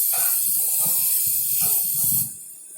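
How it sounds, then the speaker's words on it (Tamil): Tomatoes, carrots and beans sizzle steadily in a pan while being sautéed for vegetable pulao, a continuous close hiss that drops sharply toward the end, with low clatter beneath. "அதுக்கப்புறம் அது கேரட்டும் பீன்ஸையும் போட்டு கொஞ்சம் நல்லா வதக்கி விட்டுட்டு"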